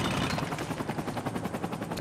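Rapid rhythmic helicopter rotor thumping mixed with bursts of gunfire, a dense steady clatter from a combat scene in the video game Spec Ops: The Line.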